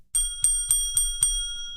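Five crisp rings of a bicycle-style bell, evenly spaced and close, each ding decaying with a sustained metallic tone, with no talk over them.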